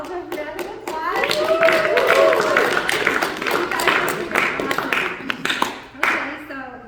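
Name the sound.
audience giving themselves a round of applause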